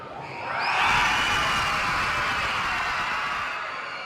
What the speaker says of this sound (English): The awaiting crowd gave him a wild welcome.